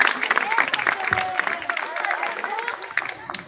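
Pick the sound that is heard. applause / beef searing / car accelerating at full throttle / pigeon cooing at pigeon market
applause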